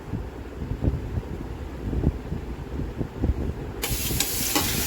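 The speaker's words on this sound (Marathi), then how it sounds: "तेलात टाकलं थोडंसं जिरा आता टाकणार आहे कढीपत्ता" Cumin and curry leaves sizzle and crackle in hot oil in a kadai while tempering for a Konkan-style field bean (val) dish. The hiss is steady and close, with scattered pops and a brighter burst of sizzling near the end.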